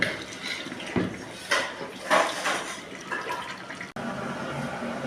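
Water is poured into chicken salna cooking in a pot, giving a close, rushing, splashing pour in several surges over a few seconds with no voices.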